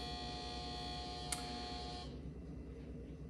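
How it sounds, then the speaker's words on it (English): A refrigerator right beside the camera hums steadily with a tonal buzz, a brief click near the middle, then the hum drops away into a quieter background for the rest of the short stretch. "That noise was my fridge."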